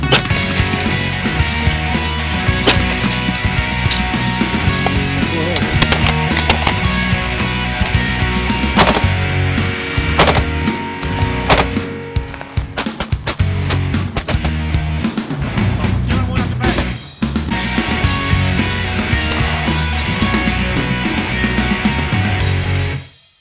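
Rifle shots fired through a Silencer Co. muzzle brake on a rifle with an Aero Precision S1 handguard, with rapid, loud, sharp reports packed densely together in sustained strings and only brief gaps between them.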